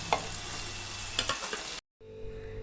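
Chopped onion and garlic hiss in a pan already seasoned with cumin powder for an egg curry, with a soft steady sizzle and a few stirring scrapes. The sound cuts out briefly, then returns quieter over a low hum.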